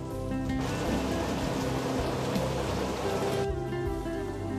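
Steady rain pours down in a dramatic outdoor scene, a dense, even hiss that swells in the middle and eases slightly toward the end, with no voices over it.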